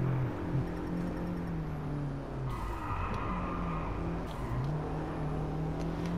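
A Mercedes-Benz CLA 45 AMG in a driving game builds speed, its engine note rising and falling through steady revving tones, with brief whooshing bursts as it goes, heard alone without talk.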